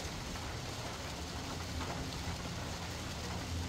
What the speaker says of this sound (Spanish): ya empezó a llover